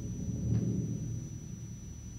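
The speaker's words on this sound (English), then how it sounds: "From the distant hill can be heard the approaching storm." Orchestral storm music from the William Tell Overture rumbles low and soft, a distant swell of drums and strings that builds briefly before settling into a steady murmur.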